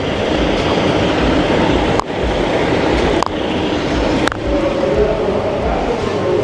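A GO train at Toronto Union Station rumbles steadily on the tracks, loud and close, with a few sharp clacks or thumps breaking the continuous rolling noise.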